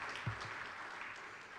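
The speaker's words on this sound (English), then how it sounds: "Give them another round of applause." Applause from an audience following a dance troupe's performance at a centenary conference celebration, a steady, fairly quiet wash of many hands clapping throughout with a brief low thump near the start.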